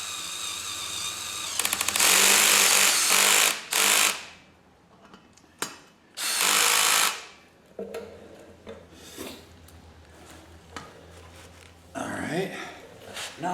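A power tool drives a 7/16 bolt on a VEVOR transmission jack in several loud whirring bursts of a few seconds each, separated by pauses, with a person talking between them.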